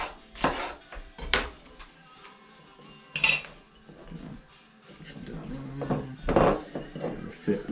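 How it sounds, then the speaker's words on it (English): Jalapeño peppers are pushed into a glass jar in a kitchen, producing a series of close, uneven clinks and knocks against the glass, with short gaps of quiet between them. "probably gonna do a half a dozen jalapenos to fit into this jar here"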